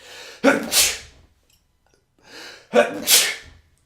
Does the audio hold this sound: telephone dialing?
no